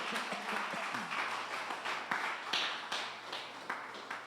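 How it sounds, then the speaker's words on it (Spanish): A church congregation applauds during a sermon, with soft, scattered claps and taps heard faintly from a distance. "dale un aplauso al que vive"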